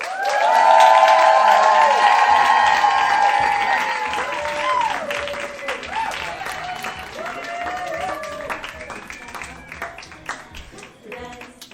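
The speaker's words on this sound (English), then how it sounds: "To have a big round of applause for Ellie Brigida and Leah Holmes Foster for Let's Hang Out!" A live podcast audience in a city performance space bursts into loud clapping and cheering with whoops, strongest at the start and gradually thinning into scattered claps, with voices rising over it toward the end.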